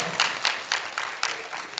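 An audience at a district community meeting with a student panel claps in steady, moderately loud applause, with rhythmic bursts of clapping running throughout.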